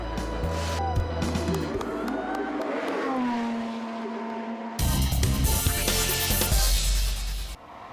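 Renault Mégane Trophy race cars in the 2007 Eurocup pulling away at a race start, engines droning and rising in pitch over a steady wash of track noise, with music running throughout.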